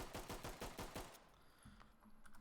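A secondary weapon fired without recoil control in the tactical shooter Ready or Not, heard as a rapid burst of about eight loud, evenly spaced shots, followed by a brief mechanical click and a quiet room tone.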